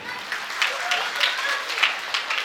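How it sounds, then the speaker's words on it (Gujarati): Applause from an audience at an Amreli primary school's annual function, a steady broadband patter of clapping across the whole stretch, moderately loud with voices mixed faintly underneath. "આ બધી દીકરીઓ માટે તાળી પડવી જોઈએ"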